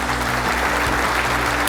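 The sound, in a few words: audience applause for speaker at conference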